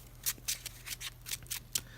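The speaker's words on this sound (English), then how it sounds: "So this is pretty well shuffled now." A Yu-Gi-Oh card deck being shuffled by hand, quick crisp riffles and slaps in a steady run of about eight strokes, close and soft with no voices.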